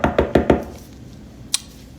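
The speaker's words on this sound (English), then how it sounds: "I knock on Connor's door." Four quick knocks on a bedroom door in a house, evenly spaced and close, followed by a pause and a single sharper tap.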